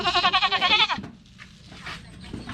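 A male goat bleats once in a loud, wavering cry up close, then fades into quieter rustling background.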